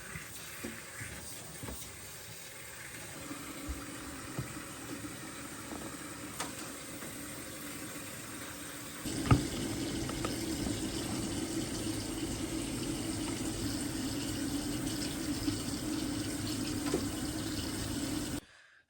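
Water running steadily into a sink during a hair wash for locs with curly ends, a continuous rushing flow that grows louder and fuller about halfway through, with no talking.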